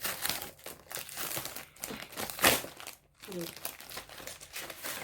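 Plastic wrapping and packaging crinkle and crackle steadily as a parcel of hair vitamins is pulled apart by hand, close and fairly busy, with a brief pause near the end and faint talking mixed in.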